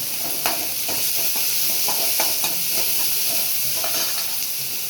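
Mustard seeds, cumin, shallots and garlic fry in a pan for a bitter gourd stir-fry, a constant close sizzle with light stirring scrapes and pops.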